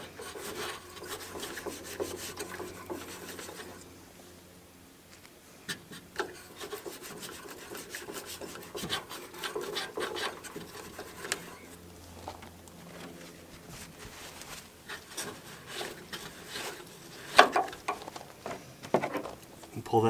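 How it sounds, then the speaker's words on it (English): A microfiber cloth wipes a surface dry near the tail light housing of a 2011-2016 Ford Super Duty, making repeated close scrubbing and rubbing strokes that come in bursts with short pauses. "use the other side of that microfiber and go ahead and get it dry"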